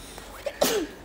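A single close sneeze, a sharp explosive burst with a brief breathy lead-in, heard alone against quiet indoor background.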